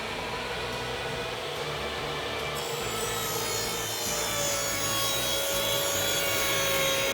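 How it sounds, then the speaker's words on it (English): A SawStop table saw rips plywood shelf stock to width, giving a steady, loud whine of the blade through the wood that builds slightly toward the end, continuous with no talk. "Now we're going to rip them to width on our saw stop."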